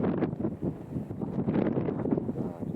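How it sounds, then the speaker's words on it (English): Strong gusts buffet the microphone on a hilltop at night, a continuous low, rough roar with uneven surges and no break, loud and close throughout. "it's just really windy up here and my camera's being blown about"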